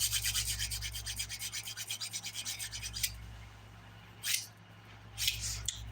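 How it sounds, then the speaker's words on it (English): An index fingernail's sidewall is filed straight down with a nail file and curved at the cuticle corner: about three seconds of quick, even rasping strokes up close, followed by a few isolated soft scrapes. "filing straight down my sidewall, curving at the corner there at the cuticle."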